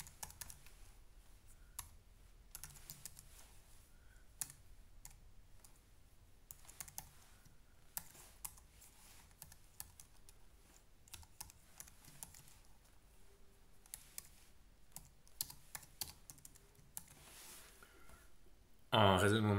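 Fingers type code on a computer keyboard in quick, irregular bursts of soft clicks and taps with short pauses, with a faint voice in the background and a louder sound right at the end.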